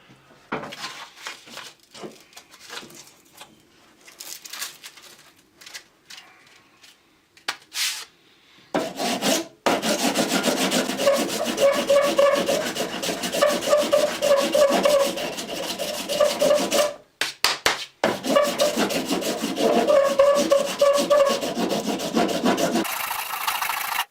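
The wooden handle of a Hultafors chopping axe is sanded by hand with coarse sandpaper, giving close, steady, raspy back-and-forth strokes that run loud and continuous after a quieter, sporadic start.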